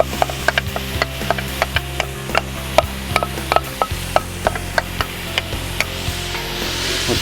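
A large sweet Vidalia onion sweats in a graniteware pan, giving a low steady sizzle broken by irregular ticks and scrapes of stirring.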